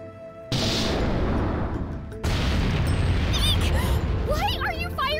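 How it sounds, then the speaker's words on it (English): Torpedoes fired and exploding in the video game Disgaea 7, heard as two heavy booming blasts in quick succession, followed by a sustained loud rumble, with short vocal cries near the end. "Deploying torpedoes."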